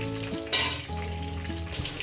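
Fish sizzles steadily in hot oil, with a sharp burst of crackling about halfway through and occasional stirring noises, all close and fairly loud.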